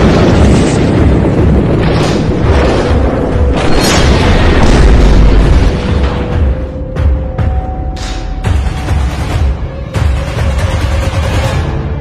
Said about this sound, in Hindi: ये तूफान की आने की आवाज है